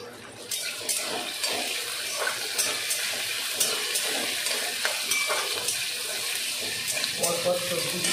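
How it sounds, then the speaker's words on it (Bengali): Cauliflower stirred and fried in a pan with curry leaves, giving a steady sizzle with repeated scraping and clinking of the spoon against the pan, close by and alone without talk. "পরপর সবজিগুলো একটু ভেজে নেব।"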